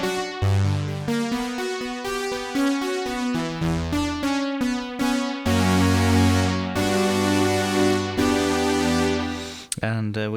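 Groove Synthesis 3rd Wave synthesizer played in mono without pan spread, a sustained chord sequence of rich, buzzy tones with shifting filter brightness, steady and loud with no talking.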